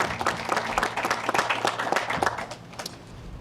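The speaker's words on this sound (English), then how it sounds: "Join me in giving them a big round of applause for the work that they do." An outdoor audience claps at the 50th anniversary ceremony of the Cordell Hull Dam and Lock, a dense burst of applause that stays steady and then thins out toward the end.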